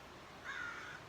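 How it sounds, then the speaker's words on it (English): Crows call from a distance, one faint drawn-out caw standing out in the second half over quiet outdoor background. "all of a sudden there's like birds everywhere. There's crows, there's hawks"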